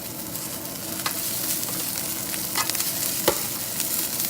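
Cold leftover rice fried and stirred in hot oil for chicken fried rice, a steady close sizzle with scattered scraping clicks from a utensil, with no talking.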